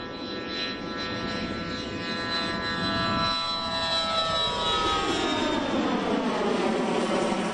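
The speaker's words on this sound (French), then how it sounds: "L'AGS est constituée de véhicules aériens sans pilote de type haute altitude et longue endurance" A high-altitude, long-endurance unmanned aerial vehicle flies past with a steady, continuous engine drone and a whining tonal component that slowly shifts in pitch, heard alone at moderate loudness.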